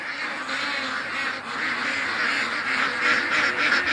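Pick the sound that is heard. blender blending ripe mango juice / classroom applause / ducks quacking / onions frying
ducks quacking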